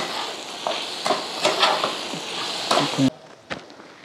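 A spoon stirs chicken gravy seasoned with chicken masala in a pan, scraping and clinking against the metal over a steady sizzle of frying, then the stirring abruptly stops.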